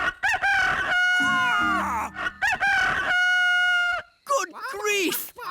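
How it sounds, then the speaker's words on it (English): A cartoon rooster crows loudly twice, with hens clucking and squawking around it, close and cartoonish, followed by a brief voice. "What are those chickens doing here?"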